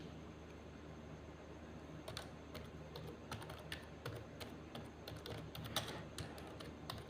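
Soft, close computer-keyboard typing in a steady stream of quick clicks over a faint hum, with a few brief pauses between keystrokes.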